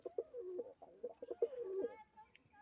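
Madrasi pigeons kept by a pigeon seller in Amethi, Uttar Pradesh, coo in a close series of soft, throaty, rhythmic calls, with quieter background sounds as the cooing fades near the end.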